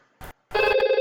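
An IP desk phone rings on an incoming call from another extension, a loud electronic tone sounding close after a couple of short clicks, with no speech.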